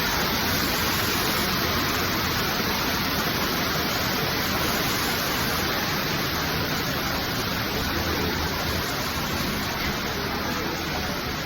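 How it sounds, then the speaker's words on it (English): Waterfall inside a cave along a trail, a constant broadband roar of falling water, loud and unbroken from start to finish with no voices. "There's a waterfall here."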